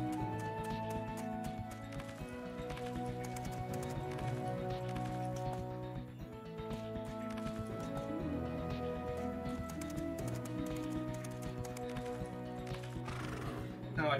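A horse neighs and gallops in the video game Champion Dreams, the whinnies and hoofbeats blended into a continuous bed of dense game music and sound effects that runs throughout.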